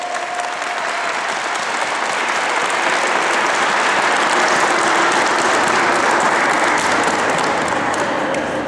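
Sustained, loud applause from an audience in a sports hall at a youth tournament, greeting visiting players from Szynica and filling the whole stretch without a break.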